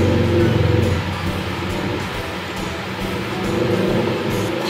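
Rumbling engine of a motorized tricycle passing outside, a loud steady drone that swells and eases slightly as it goes by, with no talking.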